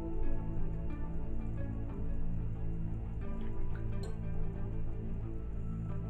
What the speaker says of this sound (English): rinse both of our brushes so they're ready